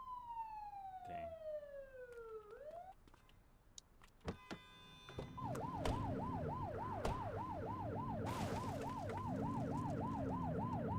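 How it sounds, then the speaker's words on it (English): Police siren in The Precinct video game: a descending wail first, then a loud, steady rapid yelp cycling continuously over engine and street noise for several seconds. "You're only meant to use the siren in emergencies."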